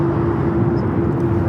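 A Boeing 787-8 Dreamliner jet at LAX makes a loud, steady roar with a droning engine hum throughout, with no talking.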